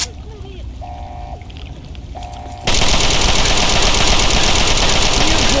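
Sustained automatic gunfire from a firefight in the video game Fallout 3 bursts in loudly partway through, a dense continuous rattle after a quieter stretch with a faint tonal game sound.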